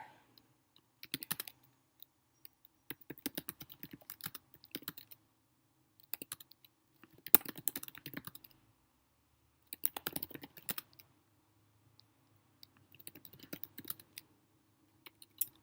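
Keys clatter on a computer keyboard as an essay is typed, in quiet irregular bursts of rapid clicks with short pauses between words, close and faint with no talking.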